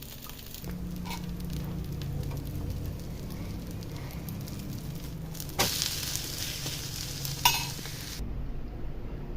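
Ridge gourd peel dosa with carrot cooking on a pan with a little oil, a soft steady sizzle with occasional sharp scraping or spatula clicks, quiet and close.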